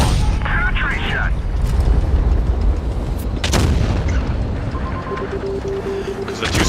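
Heavy tank cannon shots in a tank video game with the FV4005, a deep booming blast with a long rumbling tail against steady engine drone, a second sharp crack midway, and a voice talking over it.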